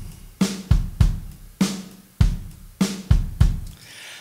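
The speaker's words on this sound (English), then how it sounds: "So let's listen to the drums first." Programmed software drum track alternating a punchy kick and a bright snare in a steady beat, about eight hits in four seconds, dry and up front with no other instruments.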